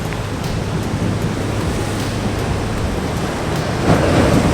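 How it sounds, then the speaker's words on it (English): Ocean waves pound against stone cliffs and caverns on Nusa Lembongan, Bali, a steady broad roar of surf with wind, swelling louder near the end, no voices. "clearly the waves are just beating off the stone and just like carving its way into the cliff"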